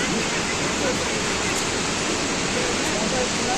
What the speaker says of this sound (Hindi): ये काफ़ी अच्छा झरना बह रहा है